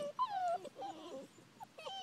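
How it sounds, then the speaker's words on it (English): A European basset hound puppy gives a run of thin, high yelps and whimpers close by, quiet and broken up with short pauses between cries. "That's orange ribbon that's doing that little yelping."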